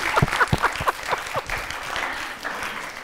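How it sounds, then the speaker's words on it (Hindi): A school audience claps for their teachers: a few sharp, distinct claps open, then the clapping thickens into a dense, steady round of applause that carries on to the end. "अच्छा इनके लिए तालियां बजाइएगा जरा।"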